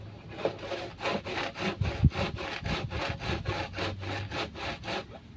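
Hand saw cutting through wood in a steady back-and-forth rhythm, about a dozen rasping strokes, close and loud with no talking.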